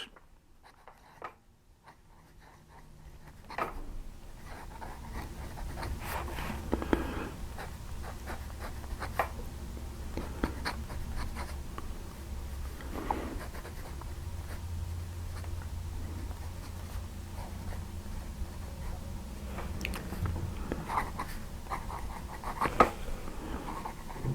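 A fountain pen with an italic nib scratches across paper in faint, intermittent strokes, soft and close in an otherwise quiet room.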